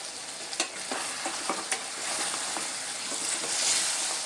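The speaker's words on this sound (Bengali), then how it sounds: "আবারও আমি খুব ভালো করে নেড়ে দেব।" Mutton paya being stirred as it fries in an opened covered pan, a steady hiss of sizzling with scattered scraping clicks of the spoon against the pan, close and moderately loud.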